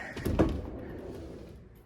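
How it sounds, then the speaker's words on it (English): A barn door slides shut along its track with a rolling thump that peaks early, then a fading rumble trailing off, fairly quiet and close, no talking. "we'll just slide the door over"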